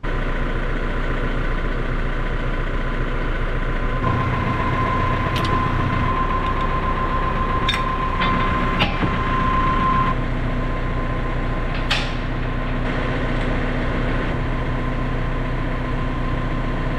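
A farm tractor's engine idling steadily for a long stretch, a constant low mechanical drone with a faint whine, close and even, with a few brief clinks and knocks partway through and no talking.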